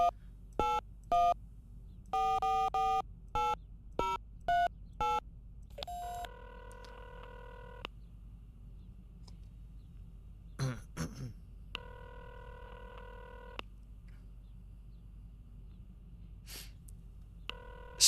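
Touch-tone dialing beeps come in quick clusters, then a phone rings several times in steady repeated tones inside The X-Files video game, with a brief clatter in between and quiet gaps.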